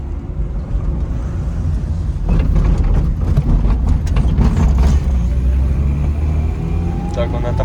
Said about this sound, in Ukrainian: ми їдемо на Славуті і перед нами ще дві Славути